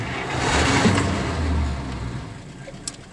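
Engine of a 1951 Buick Special turning over and revving. There is a loud, rough surge that swells over the first two seconds and then settles back, recorded up close.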